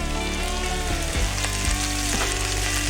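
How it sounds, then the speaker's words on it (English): Mixed vegetables with red cabbage fry in a hot pan, a steady loud sizzle running throughout with a few brief scraping stirs, no voices. "And I will go ahead and add the other vegetables too. The mixed vegetables."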